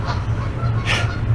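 A goose, the male of a pair, honks once or twice, nearby, over a steady low hum of background noise.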